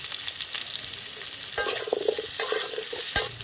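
Olives for a sweet, sour and spicy olive pickle are stirred in hot oil with turmeric, giving a continuous close sizzle with scraping stir strokes growing busier toward the end.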